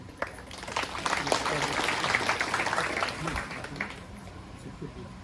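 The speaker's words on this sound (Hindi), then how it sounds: "सब मन जोर से ताली दे दो" A crowd at a parish community gathering for the Oran Raja Abhishek 2022 coronation in Gudrapada applauds in a steady, loud wash of clapping that lasts throughout, with voices mixed in.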